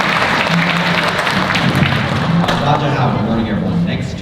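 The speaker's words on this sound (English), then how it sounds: "Let's give them a big round of applause." Applause for students at a Lunar New Year school assembly, dense continuous clapping from a crowd filling the room, loud and close, with some voices mixed in.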